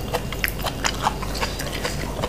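Someone eating a fresh shrimp papaya salad at home late at night, with close, wet chewing and crunchy bites repeating irregularly for a couple of seconds and no speech.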